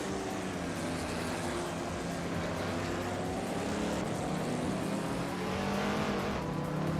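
Racing car engines, a 1970 Ford Mustang among them, hold a steady loud drone with rising and falling engine tones throughout, continuous and close.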